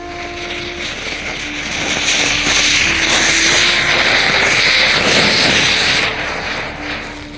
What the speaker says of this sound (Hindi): और अब डाल देता हूं इसके अंदर अनार।